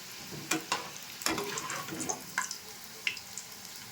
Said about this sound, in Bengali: পাঁচ মিনিট ধরে ভেজে নিয়েছি একদম রেডি হয়ে গেছে এবার নামিয়ে নিচ্ছি